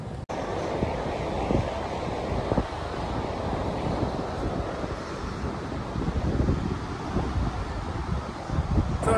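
Surf and gusting wind on a beach on Lanzarote beside a seaside snack bar make a steady, loud rushing wash with heavy wind buffeting on the microphone, continuous from start to finish.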